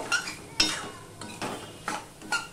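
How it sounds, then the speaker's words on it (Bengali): Spatula stirring fried soybeans with spices in a metal pan, several distinct scraping clinks spaced about half a second apart over a low, faint sizzle, with no voices. "দিয়ে আমি একটুখানি মিশিয়ে নেব, মশলার সাথে মিশিয়ে একটুখানি করে কষিয়ে নেব"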